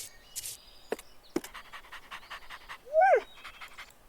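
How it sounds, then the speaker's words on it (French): A dog in a video game tutorial pants softly and rhythmically, then gives one louder rising whimper near the end. A few sharp clicks and faint voices sit in the background. "Hé, Roger, réveille-toi mon chien"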